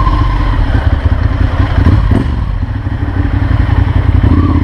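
Ducati Monster 796 motorcycle engine running loud and close, a deep steady throbbing idle with a rough mechanical clatter and small swells of revving.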